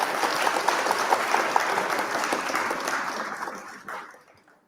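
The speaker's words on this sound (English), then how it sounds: "A huge round of applause for him." Applause for an award winner at an online awards ceremony: a steady, moderately loud crowd clapping that gradually thins and fades out over the final second.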